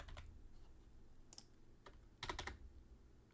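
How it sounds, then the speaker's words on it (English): A computer keyboard being typed on while a name is entered into a C program: a handful of sparse, quiet key clicks, then a short quick cluster of taps near the end, close by over faint room hiss. "Why don't you type in your name?"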